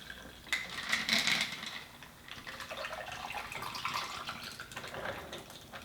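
A Singapore Sling cocktail is poured into a tall glass, a faint, steady trickling splash of liquid lasting several seconds, quiet and close with a brief clink near the start.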